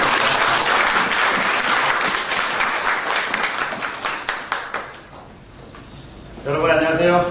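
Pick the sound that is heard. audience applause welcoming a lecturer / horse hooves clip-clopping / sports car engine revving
audience applause welcoming a lecturer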